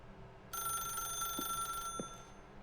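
A telephone rings in the video game The Stanley Parable, a steady electronic bell tone that sounds for over a second and then cuts off, followed by a couple of faint soft thumps.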